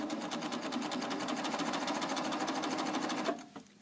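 A Baby Lock serger stitches fabric in a quilt-as-you-go project, giving a steady, fast, evenly pulsing mechanical whir that runs close and loud before stopping abruptly near the end.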